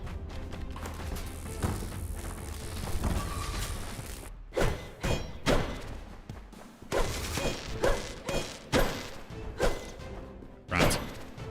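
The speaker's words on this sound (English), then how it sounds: "We're dropping bombs, that's why." Bombs going off in the video game UnderMine: a run of separate thuds and crashes, several in close succession with short gaps, over a busy background of game sound.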